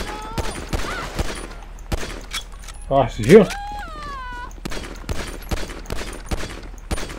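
A short burst of gunfire in GTA 5 rings out mid-clip, sharp and loud, while someone talks casually before and after.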